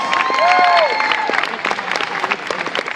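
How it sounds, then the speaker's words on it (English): An audience at a Fear Factor Live show in Orlando applauds the six contestants with a dense, loud wash of clapping. A few whistle-like tonal sweeps rise over it early, and the clapping thins toward the end. "Give them a big round of applause."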